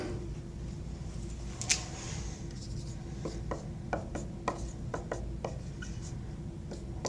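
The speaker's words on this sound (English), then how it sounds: "And if I grab a marker," A marker writing on a whiteboard-surfaced desk, a series of short, quiet squeaks and rubbing strokes in irregular rhythm, close and alone.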